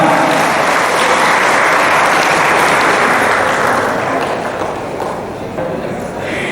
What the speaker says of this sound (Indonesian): Sekali lagi kita berikan tepuk tangan untuk Pak Soeharto.